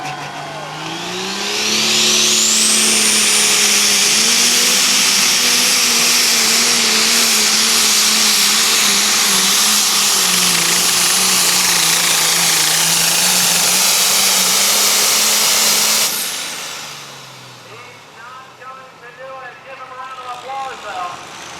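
A tractor at a truck and tractor pull roars at full throttle, a loud sustained engine howl with high wheel speed for about fifteen seconds before cutting off, followed by crowd noise and a commentator talking.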